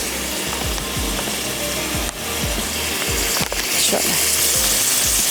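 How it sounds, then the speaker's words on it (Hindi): Tomato masala for chutney sizzles loudly in a hot pan as it is sautéed, a steady close frying hiss broken by repeated wooden stirring knocks, with a brief spoken word near the start. "तो थोड़ी सी इसकी भुनाई कर लेते हैं कि जो टमाटर सॉफ्ट हो गए हैं वो भी अच्छे से"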